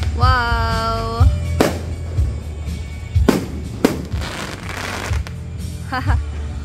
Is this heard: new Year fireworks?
yes